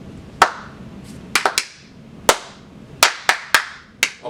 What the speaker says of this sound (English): clap track.